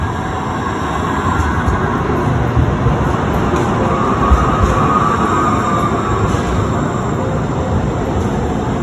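A Portland light rail train rumbles steadily past at Beaverton Transit Center with a continuous low roar and faint rattling, loud and close throughout.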